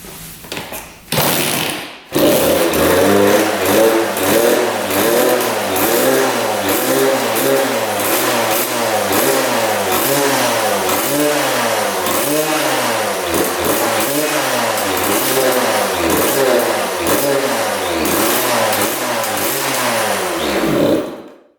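Two-stroke dirt bike engine cranking briefly, then catching and running loud and close, revving up and down in rapid repeated blips with a raspy, buzzing tone for about twenty seconds before cutting out.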